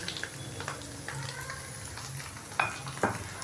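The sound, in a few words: ginger garlic and green chili paste frying in a pan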